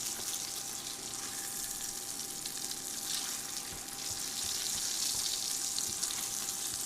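Food frying in a hot pan with butter and garlic, a dense, continuous sizzle and crackle heard up close and alone for several seconds.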